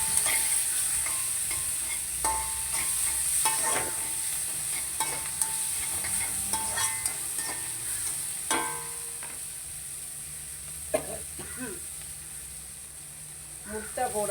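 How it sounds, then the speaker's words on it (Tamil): Mustard seeds, fennel, onion and curry leaves fry in hot oil with a steady close sizzle and hiss, broken by scattered pops and the scrape of stirring, with a voice speaking faintly underneath. "கடுகும் பெருஞ்சீரகம் போட்டு வெங்காயமும் கருவேப்பிலையும் போட்டோம்."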